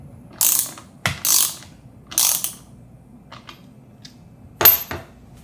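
Ratchet wrench tightening the mounting bolts of a Recaro Sportster CS seat, several short bursts of clicking spaced apart with quiet gaps between, close and fairly loud.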